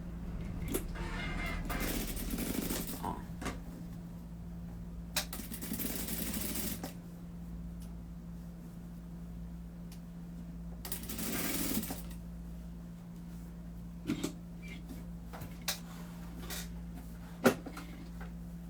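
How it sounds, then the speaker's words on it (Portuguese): A sewing machine stitches doll fabric in a few separate runs of mechanical whirring over a steady low hum, followed by scattered small clicks and handling noises, with no voices. "aí você vai passar a máquina de costura aqui, tá? Eu coloco direito com direito, coloco a pontinha aqui bem na ponta e aí eu começo a costurar"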